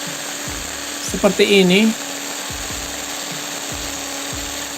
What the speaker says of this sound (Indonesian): Untuk pengeboran beton saya rasa kurang kuat untuk mesin bor ini.